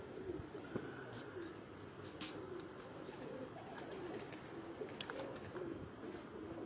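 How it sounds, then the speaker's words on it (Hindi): Two pigeons coo softly on a rooftop, their low, faint calls half buried in hissy background noise. "ये दोस्तों 2 कबूतर हैं"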